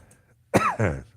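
A single sharp cough, close and fairly loud, with a rough throaty tail, followed by quiet.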